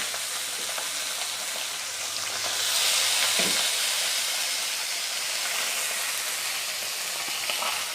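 Potatoes dropped into a hot pan of oil with ginger paste and red chili for a Naga-style fish curry with sour greens, bursting into a loud, steady sizzle that swells midway and holds as a continuous frying hiss.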